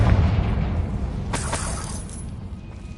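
Confringo spell explosion in Hogwarts Legacy: a low boom at the start, then a sharp shattering crack with debris and a fading rumbling tail, no talking.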